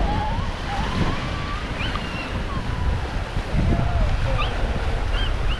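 High-tide water washes and sloshes steadily at the Blimp Road boat ramp in the lower Florida Keys during a king tide, with wind buffeting the microphone throughout.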